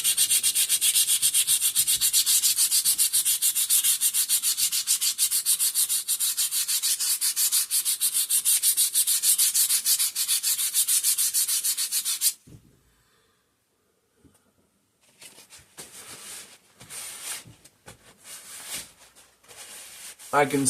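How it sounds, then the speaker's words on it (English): Rust is rubbed off the magnet of a 5 hp Briggs and Stratton engine with a long, continuous, close abrasive scrubbing, then it stops and a few scattered scraping and handling sounds follow. "I go ahead and I clean the rust off the magnet, or at least the worst of it."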